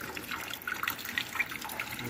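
Water leaking from the gland packing of a fire pump, a faint, continuous trickling and spattering with small irregular drips, heard fairly close and with no speech.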